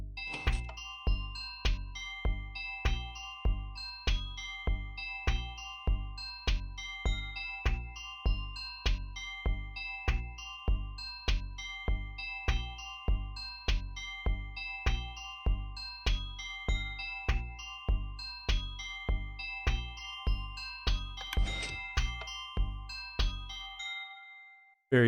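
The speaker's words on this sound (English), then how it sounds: "you're going to hear a drum loop and then sort of this randomized kind of wind chime kind of thing" Minecraft redstone music: a steady, evenly paced drum loop of deep thumps topped by randomized bell-like wind chime tinkles, repeating for about twenty-five seconds before stopping abruptly.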